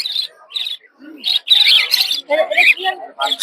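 Cage birds, including cockatiels, for sale at a Saturday village bird market in Narsingdi: close, loud, irregular bursts of sharp chirps and squawks, with voices talking among them.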